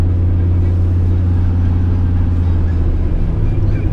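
A car with a Flowmaster exhaust idles with a loud, steady, deep rumble that stays close and even throughout.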